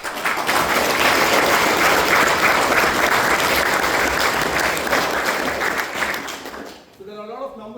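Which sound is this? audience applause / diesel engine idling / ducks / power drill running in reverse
audience applause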